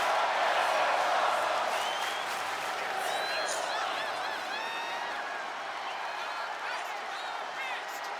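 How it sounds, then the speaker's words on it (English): A capacity arena crowd at a Hell in a Cell match in the video game WWE 2K26 roars and applauds continuously, loud and dense throughout with scattered whistles and cheers, while a commentator speaks underneath. "And listen to this capacity crowd."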